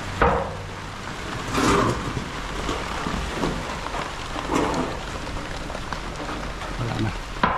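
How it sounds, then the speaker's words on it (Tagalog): Sudden heavy rain pours down in a steady broadband hiss with occasional louder gusts and surges, fairly close, while people talk over it at times. "biglaan yung ulan"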